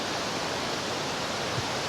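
Heavy rain-swollen waterfall pouring over a hiking path near Gosausee in the Austrian Alps, a steady, dense rushing roar that surrounds the listener at close range with no pauses.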